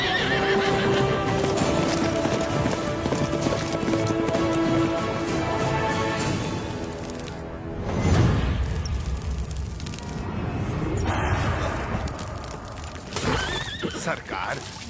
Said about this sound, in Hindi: घोड़े ने क्या किया है?